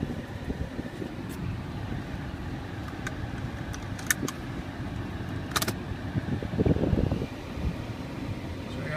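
A 2004 Audi A8 Quattro L on the move, its steady low road and engine rumble filling the cabin from inside, with faint clicks and ticks above and a brief swell of louder noise near the end.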